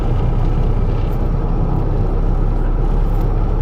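Twin-turbo Ford F150 pickup in four-wheel-drive high accelerating hard, a steady, loud, heavy engine and drivetrain rumble heard from inside the cab, with no voices.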